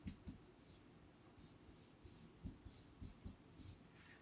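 A pen or marker scratches out a math function by hand in short, faint strokes with brief pauses between them, heard close and alone in a quiet room.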